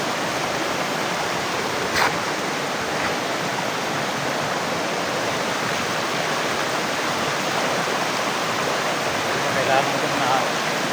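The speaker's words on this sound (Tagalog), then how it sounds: "dito yung sabi ni Diwata na baybayin mong sapa" A flowing stream (sapa) gives a constant, dense rush of water, close and fairly loud, with a faint voice briefly audible beneath it.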